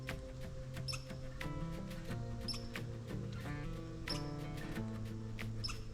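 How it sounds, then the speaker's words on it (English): Small squirrel calling from a branch in an autumn forest, giving repeated sharp, high chirps over a steady bed of woodland ambience and distant music-like tones. "There's a little squirrel right there on the branch calling out."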